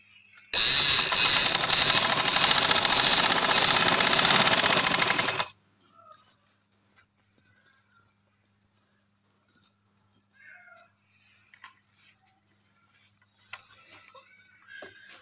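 A sewing machine runs steadily, stitching elastic onto a pajama waistband in one loud continuous burst of about five seconds, then stops, leaving quiet handling noises and faint rustling.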